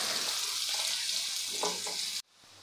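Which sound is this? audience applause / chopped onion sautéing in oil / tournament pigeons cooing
chopped onion sautéing in oil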